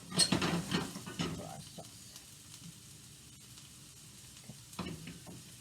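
Small peppers sizzle in a pan as they sauté for a spaghetti sauce, with a burst of louder frying and scraping at first that settles into a quieter sizzle, then another brief stir near the end.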